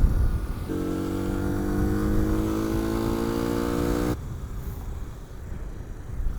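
A 1981 Honda C90 motorcycle engine drops a gear, its steady buzzing hum holding for a few seconds and then cutting off to quieter road noise, heard close and without talk.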